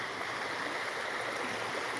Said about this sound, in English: The waves kind of come around my feet